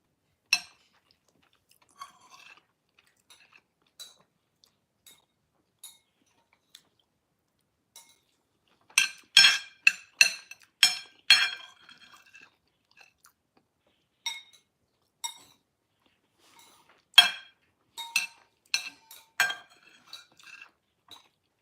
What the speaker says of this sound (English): I'm eating and the plate is making noise.